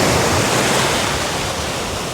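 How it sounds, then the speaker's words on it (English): Steady wash of surf rolling onto a rocky shore diving entry in Bonaire, a loud, continuous broadband rush of breaking waves close by with no voices. "Waves aren't too bad."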